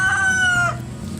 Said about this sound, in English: We've got chickens resting in the sun over